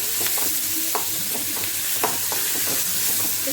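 Tomato and onion sautéing in a pan, with a steady close sizzle and repeated scrapes and clicks of stirring throughout, no voices.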